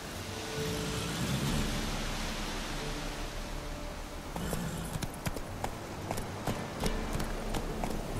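Roach, the horse in The Witcher 3, clip-clops along in the game, the hooves coming through as a run of distinct, fairly close thuds over a steady wash of ambient noise.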